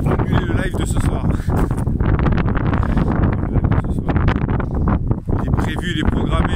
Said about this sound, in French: Il y a un vent aujourd'hui. Un vent à annuler le live de ce soir.